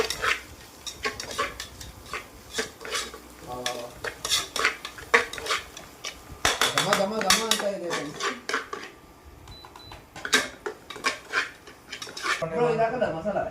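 A utensil repeatedly scrapes and clinks against a pan in an irregular stirring rhythm while mixing ingredients for gobi rice, with faint frying and a voice in the background.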